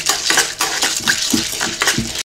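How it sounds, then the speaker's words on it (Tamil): Chana dal hits hot groundnut oil in a pan and gets stirred, giving a short run of scraping, clinking spoon strokes over a soft sizzle, ending abruptly in silence. "இப்ப கடலைப்பருப்பு போட்டு வதக்கிடலாம்"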